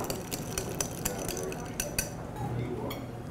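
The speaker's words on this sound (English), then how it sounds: "we stir it 13 times." A bar spoon stirs a brandy-topped cocktail in a glass, giving light, quick clinks at a steady rhythm, close and quiet, over soft background murmur in a restaurant.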